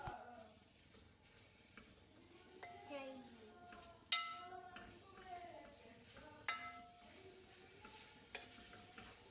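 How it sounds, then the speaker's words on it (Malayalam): Tomatoes sauté in a pan while a spoon stirs and mashes them, giving a steady soft sizzle with scraping knocks and clinks throughout, close by, and a voice chatters faintly in the background. "തക്കാളിയൊക്കെ വേഗം ആവാൻ വേണ്ടിയിട്ട് ഞാൻ കുറച്ചൊന്ന് വഴറ്റി പിന്നെ അതൊന്ന് ഉടച്ചിങ്ങനെ കൊടുക്കണേ"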